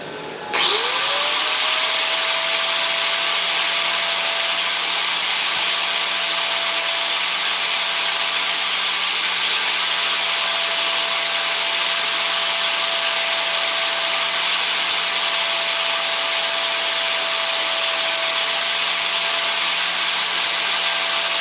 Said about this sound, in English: I gotta spend more time sharpening today than I am welding.